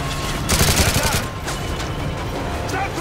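Heavy gunfire and mortar blasts in the Call of Duty: Modern Warfare 3 video game, from a firefight against an approaching militia group, start as a dense burst of shots and settle into scattered reports.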